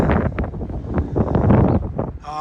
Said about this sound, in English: Now the wind's really kicking up right now.